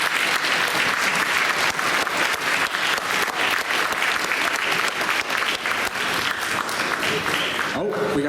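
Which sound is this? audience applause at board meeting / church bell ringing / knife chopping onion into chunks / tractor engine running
audience applause at board meeting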